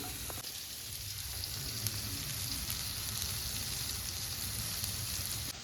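Prawns fry in a pan for a Karwar-style Konkani fish curry, producing a steady, close crackling sizzle with a faint low hiss throughout and no speech.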